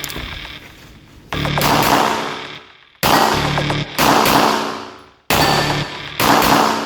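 Pistol shots ring out during a practical shooting test, several sharp loud reports fired one after another at uneven intervals, each followed by a ringing echo that fades out.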